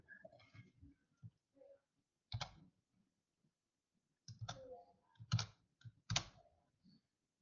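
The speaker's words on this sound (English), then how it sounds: "So press enter and type in table row." Keys tapped on a computer keyboard in short, quiet clusters of clicks with pauses between them, including a firmer press like the enter key, close and faint in a silent room.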